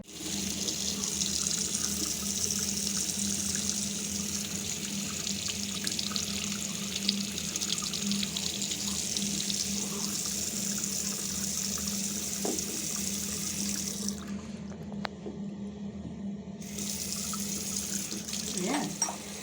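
A tap runs steadily into a sink for the whole stretch, a loud, continuous close rush of water that briefly cuts out near the end before resuming, with a voice faintly audible at times.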